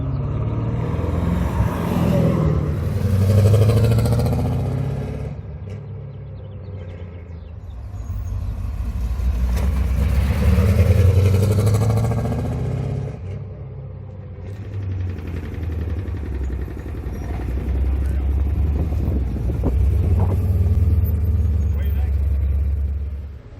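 A Porsche 944 racecar fitted with a Chevy small-block V8 and a broken gearbox stuck in third and fourth gear rumbles along slowly, its deep engine note rising and falling in swells, with people talking over it.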